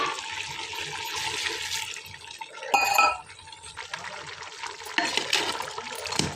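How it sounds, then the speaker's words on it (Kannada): About a glass of water is poured into a pot of simmering chicken curry as the meat cooks, giving a steady splashing gush that swells briefly in the middle, with no talking. "ಅದಕ್ಕೆ ಸ್ವಲ್ಪ ನೀರು ಹಾಕುವ"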